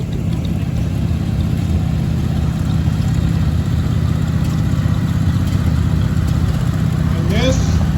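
A restored Ford 9M tractor runs with a steady, chugging engine hum while someone talks over it throughout.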